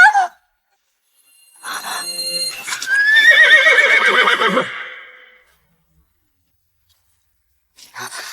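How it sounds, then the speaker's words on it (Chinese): A palace horse lets out one loud, drawn-out whinny that rises and then trails off, preceded by a brief rustle and followed by near silence. "这马蹄声是宫中御马"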